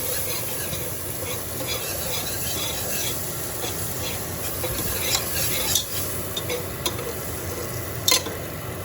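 A butter roux for baked macaroni and cheese cooking in a pan over reduced heat, stirred continuously with a soft sizzle and occasional scrapes and clinks of the utensil, no talking.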